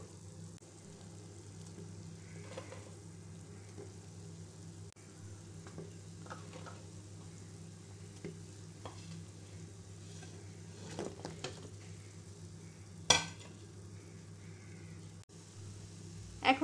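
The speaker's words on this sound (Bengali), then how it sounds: "আমার চিনির শিরার বলক চলে এসেছে এখন আমি আস্তে আস্তে মিষ্টিগুলো দিয়ে দেবো" Kalojam sweets made from milk powder are dropped into boiling sugar syrup, giving a faint, steady bubbling simmer with a few soft knocks and one sharper clink near the end.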